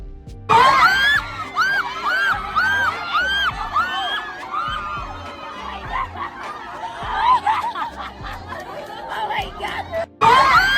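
A crowd of excited BTS fans watching a live stream in a subway at Sinnonhyeon Station shrieks and squeals almost continuously, loud and high-pitched, with giggles and chatter mixed in, cutting off abruptly near the end.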